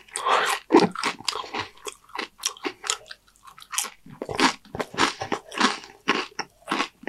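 Loud, close crunching and biting of spicy homemade Dorito bag nachos, a rapid run of crisp bursts with short pauses between mouthfuls, no talking.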